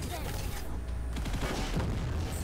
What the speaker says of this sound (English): I heard an explosion, but I can't see.